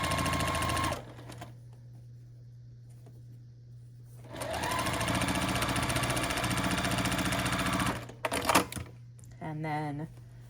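A sewing machine stitches quilt pieces for Holly Jolly sampler quilt blocks: a short whirring burst, a pause, then a longer steady mechanical hum, followed by a few clicks and a brief voice.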